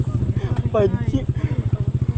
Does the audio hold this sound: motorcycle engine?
yes